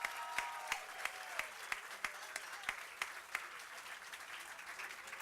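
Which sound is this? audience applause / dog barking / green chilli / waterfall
audience applause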